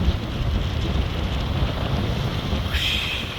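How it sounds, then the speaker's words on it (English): Sea waves wash onto the shore at Saltfleet near the water's edge, a steady broadband rushing surf mixed with wind buffeting the microphone, with a brighter hiss near the end. "waves, what a great sound"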